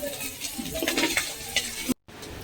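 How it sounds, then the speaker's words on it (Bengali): Half-fried prawns lifted out of hot oil in a pan, with steady sizzling and light scraping and clinking of a utensil close by, the sound briefly cutting out near the end before the frying noise resumes. "এবার চিংড়ি মাছটা তুলে নিচ্ছি, মাঝামাঝি ভেজেছি।"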